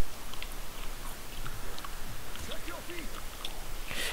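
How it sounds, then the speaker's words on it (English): Gum being chewed close to the microphone, with soft wet clicking and smacking running steadily through the clip, faint game sounds behind it. "I'm sorry if you guys can hear me chewing gum"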